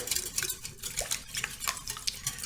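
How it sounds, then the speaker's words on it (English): A mixture of egg and melted coconut oil stirred briskly in a bowl, a close, continuous rhythm of utensil scrapes and clinks with no talking. "we're just gonna give that a nice stir"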